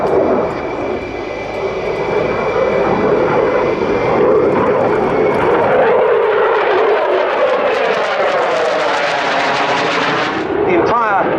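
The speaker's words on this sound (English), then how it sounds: "Danish F-16s have been beans all the time." Danish Air Force F-16 fighter jet performing at an airshow, a loud engine roar that swells and shifts in pitch as it passes, with a commentator's voice over it.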